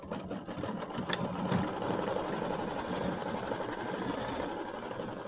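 Embroidery machine sewing an applique tack-down line on fabric for a gnome quilt block, a steady rapid mechanical stitching whir running continuously at close range with no talk.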